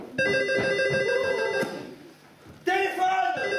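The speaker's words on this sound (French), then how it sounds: "Téléphone!" A telephone bell rings in bright, sustained bursts during a French stage play, with a short pause between rings and a few raised voices in the background.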